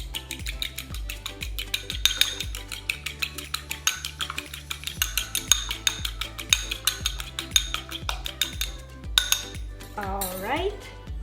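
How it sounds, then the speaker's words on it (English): An egg is beaten in a small bowl, a fork or whisk clinking rapidly and rhythmically against the sides, bright and close, with a brief scraping flourish at the end. "in a small bowl I will beat the egg"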